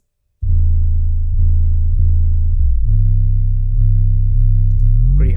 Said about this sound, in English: this is my 808